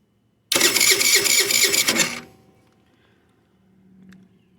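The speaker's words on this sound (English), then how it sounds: "I'm going to put the key in the bike. I'm going to crank it over." GY6 scooter engine with a 50cc or 150cc motor cranked by its starter for about two seconds: a loud, buzzy, rhythmic whir up close that stops abruptly without catching, leaving near silence.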